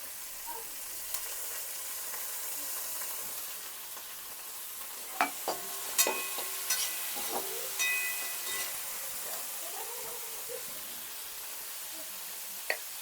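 Onion, chilies and tomatoes fry in a pan with a steady soft sizzle, broken by occasional clinks and scrapes of stirring.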